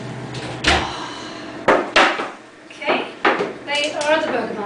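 Gluten-free burger buns come out of a home oven with a few sharp clatters and knocks of the oven door and baking tray, while a person talks over the kitchen noise.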